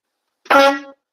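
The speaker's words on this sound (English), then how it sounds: "I rolled the window down and I honked the horn" A single short, loud truck horn blast, brassy and tonal, lasting about half a second, with silence before and after.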